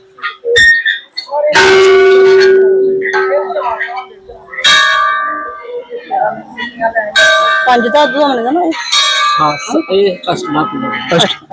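A large, heavy eight-metal alloy bell at a Shiv temple in Jammu strikes with a bright, sustained metallic ring that hangs and decays, followed by people talking and further chiming nearby.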